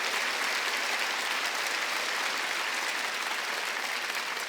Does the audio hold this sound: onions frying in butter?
no